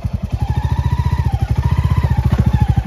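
Royal Enfield Bullet motorcycle engine thumping with a steady single-cylinder beat while riding a rough, rocky road near McLeod Ganj; loud, close and continuous throughout with no talking.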